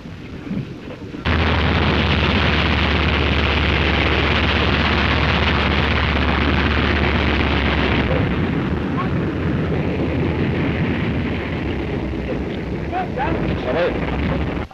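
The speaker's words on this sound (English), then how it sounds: "The Winnie May, in which Post and Getty established the present round-the-world record, is coming down on the Tempelhof Aerodrome at Berlin" Winnie Mae airplane landing at Tempelhof Aerodrome in Berlin after a long non-stop solo flight from New York: a loud, steady engine roar starts abruptly and fills the clip, easing slightly toward the end.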